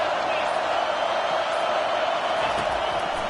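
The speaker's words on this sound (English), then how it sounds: "Decibels rising as the crowd gets behind this defense on 3rd down." A football stadium crowd at an Oklahoma versus Michigan game roars on third down, a dense, steady wall of noise with a voice talking over it.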